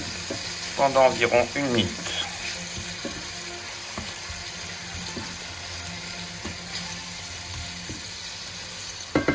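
Venetian-style calf's liver with a spoonful of marsala sizzling and being stirred in a frying pan, a steady soft fry with light scraping, a short voice speaking near the start.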